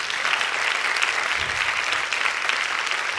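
An indoor arena audience claps steadily for a group of school specials teachers, a dense, even burst of applause from a large crowd with no speech over it.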